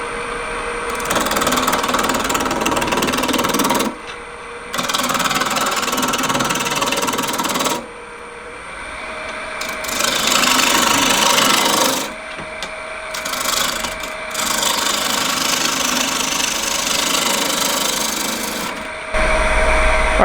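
A 6-inch by 3-inch cottonwood blank spins on a wood lathe as a tool trues up its outside, giving a loud, continuous scraping and rubbing with a steady motor hum, broken by a few short pauses where the cut stops.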